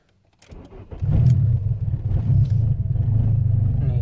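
An ignition whine gives way to an engine catching and settling into a steady, slightly uneven idle as a car is restarted after stalling in reverse, close and fairly loud.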